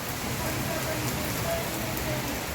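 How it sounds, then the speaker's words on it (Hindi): Steady rain falls heavily in calm, windless early-morning weather, a dense even hiss of drops on surfaces throughout, with no talking. "तो भाई बारिश पड़ रही है सुबेरी सुबेरी"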